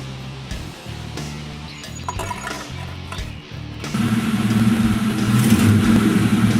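A Ford Mustang with the 4.6L engine idling and then revving as it rolls up onto wooden planks, a low steady engine rumble that swells louder partway through.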